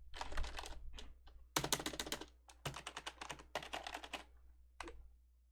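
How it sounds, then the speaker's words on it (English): Rapid bursts of typing on a computer keyboard during a Hypixel Skyblock game session, clicky keystrokes in quick clusters separated by short pauses, close and clear with no talking. "You guys can still hear my keyboard,"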